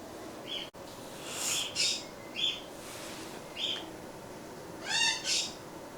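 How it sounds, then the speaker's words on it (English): Pet birds indoors at bedtime, calling in short, high, repeated squawks and chirps spaced across several seconds, moderately close over a quiet background hum. "My birds are hollering."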